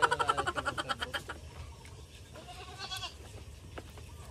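A hungry goat bleats in a quick run of rhythmic, close calls, then the cries fade into quieter bleats and scattered farm-animal noises outdoors.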